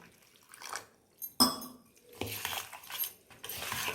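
Water pours and sloshes in a metal pot for green gram payasam, with a sharp clink of a utensil against the rim and intermittent stirring splashes nearby.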